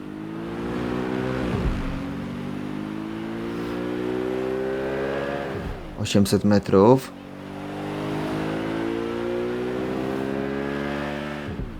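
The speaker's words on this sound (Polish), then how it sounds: "No za szybkie to auto nie jest." A car driven in the video game Watch Dogs Legion gives a steady engine drone with rising and falling pitch as it accelerates, broken midway by a brief burst of clatter, with someone talking over it throughout.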